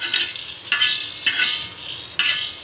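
Cloves and black pepper dry-roast in a tava, with a spatula stirring them against the metal pan. It makes four bright, clinking scrapes at uneven intervals, close and moderately loud, with no talking.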